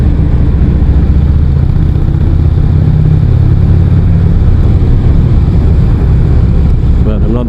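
Heavy engine drone and rumbling traffic echo inside a road tunnel, heard from a motorcycle on New Year's Eve, loud and continuous at close range with a low steady hum and no clear talk.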